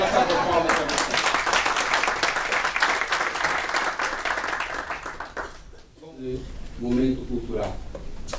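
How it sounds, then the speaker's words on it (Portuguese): An audience at a public election presentation bursts into loud applause for several seconds, fading out, followed by a person talking. "Uma salva de palmas para você."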